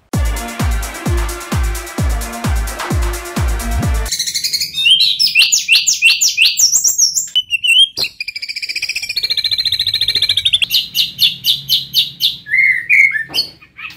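Loud, varied white-rumped shama song: rapid repeated notes at first, then bright whistled phrases and trills, close and clear with no voices.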